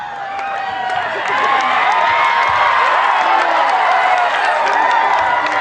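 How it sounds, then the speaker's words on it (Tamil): A large crowd applauds and cheers at an outdoor school fancy dress event on a sports ground, a loud, steady wash of clapping and shouts that swells after the first second and holds throughout. "உற்சாகமான கரகோஷங்களை வழங்க வேண்டும்"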